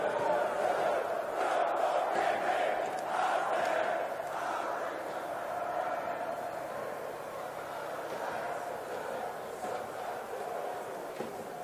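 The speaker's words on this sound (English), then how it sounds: "A good crowd, very boisterous crowd as well." A boisterous crowd of a couple of thousand at a university men's rugby union championship final at Twickenham, a steady roar of many voices throughout with no single standout cheer, fairly loud and continuous.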